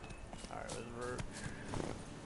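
Horse hooves clip-clopping in The Witcher 3, a steady rhythmic trot under faint ambient game sound, fairly quiet and close.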